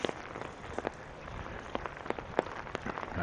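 Rain pattering during a walk through Regina in June, a faint, steady hiss of drops with occasional sharper taps close by.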